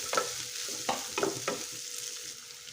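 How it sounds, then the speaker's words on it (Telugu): Thin-sliced onions and three chopped green chillies fry in oil, a steady soft sizzle broken by a few sharp spoon scrapes and clacks against the pan. "ఒక మూడు పచ్చిమిరపకాయలు కట్ చేసేసి వేసేసేసి వీటినైతే బాగానైతే వేపేసేయండి"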